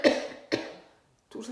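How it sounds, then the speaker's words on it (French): A woman coughs three times: two harsh coughs close together, then a short pause and a third, weaker cough. There is no talking. "Elle tousse."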